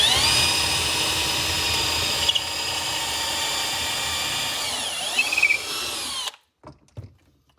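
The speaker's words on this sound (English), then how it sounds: "That was a lot of power for a 12-volt impact driver and a drill." A Milwaukee M12 12-volt drill runs in second gear with a steady, close, high-pitched motor whine. It slows with a shifting pitch near the end, then cuts off, leaving a few faint knocks and no talking.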